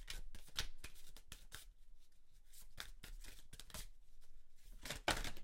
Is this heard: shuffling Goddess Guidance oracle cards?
yes